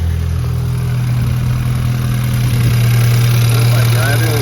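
A BMW F30 328i with the N20 engine at 200,000 miles idles with a steady, loud low drone and a faint metallic rattle from a loose wastegate.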